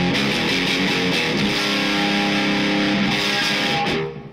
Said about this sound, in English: The Lava Box is a MOSFET distortion pedal